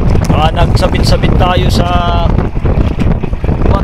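Strong wind buffets a small fishing boat out at sea, a steady roar under near, continuous talk.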